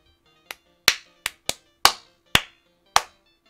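Seven crisp, close hand claps at an uneven pace, each sharp and quickly fading, with quiet between them.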